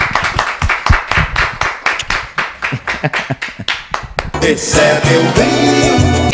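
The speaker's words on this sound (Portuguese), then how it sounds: "eu vou aplaudi-lo e terminando assim" Rhythmic applause from a small group claps in steady beats for several seconds, then gives way to loud music.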